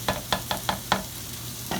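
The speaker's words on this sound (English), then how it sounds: "Steak is still cooking, looking good." Steak cooks in a pan under a low, steady sizzle, with a series of sharp, evenly spaced scrapes or taps of a utensil against the pan and a pause before a final one.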